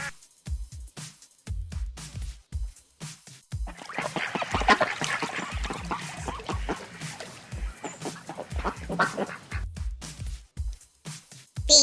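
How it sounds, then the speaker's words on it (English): Domestic duck quacking in a loose, continuous run of calls, moderately near, mixed with intermittent spoken words. "D-U-C-K. Duck."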